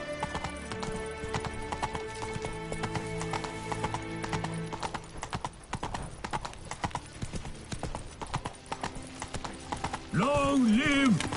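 In The Witcher 3, the horse Roach gallops with rapid, rhythmic clip-clop hoofbeats, mixed with game music and effects, ending in a loud neigh.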